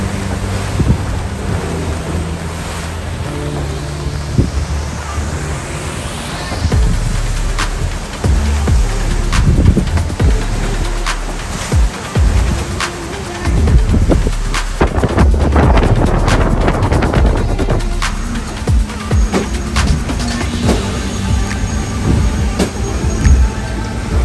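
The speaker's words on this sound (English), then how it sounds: "We started to get some wind against current, and the wind was piping up, so it started to get kind of rough." Strong wind roars steadily while a sailboat pushes through rough water, wind against current, with waves slapping and rushing around the hull and gusts buffeting the microphone throughout, loud and close with no talking.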